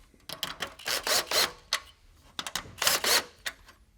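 Sharp clicking bursts from a ratchet or torque wrench tightening the grill mesh bracket bolts on a 2005-07 Ford F250/F350, coming in close, quick clustered runs with brief pauses between them.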